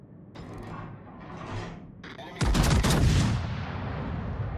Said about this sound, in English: All stations, concentrate fire on the target.